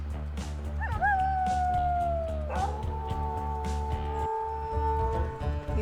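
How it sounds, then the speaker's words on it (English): Wolves howling in the game WolfQuest: two or three long wavering howls that overlap and slide downward, sustained for several seconds above a steady low rumble of game ambience. "let's not mess with random dispersals with their annoying howls"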